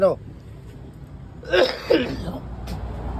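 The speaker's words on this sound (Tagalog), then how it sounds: "Ay, inuubo talaga ako." A voice is heard briefly at the start, then after a pause come two short, harsh coughs or throat-clearing bursts, close to the microphone.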